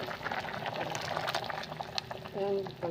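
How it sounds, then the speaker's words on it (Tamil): Bubbling, simmering chicken curry in a pot, a steady close-up gurgle with small pops, partly under a voice speaking nearby. "பாருங்கள், நல்லா கொதிச்சு வந்துடுச்சு, நல்லா வெந்துடுச்சு இந்த கறி"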